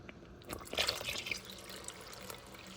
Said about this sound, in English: I'm going to now add water